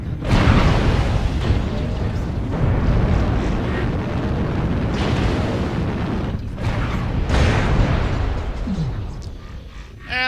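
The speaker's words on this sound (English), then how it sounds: "And then hit by missiles." Heavy missile explosions pound a mech in MechWarrior Online, a continuous loud rumble of overlapping booms and blasts lasting several seconds, with no voices.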